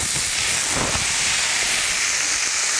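Beef browning in a hot pan for stew, a loud, steady, close hiss of searing meat throughout, with no talking.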